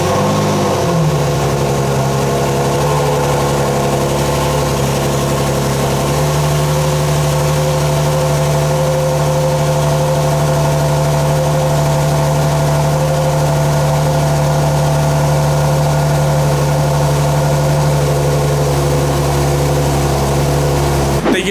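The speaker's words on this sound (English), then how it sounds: "I'm gonna go ahead and get you guys a cold start real quick" Nissan 370Z engine idling after a cold start, a loud, steady low drone with a brief rise at startup before settling into an even, elevated idle, with no talking.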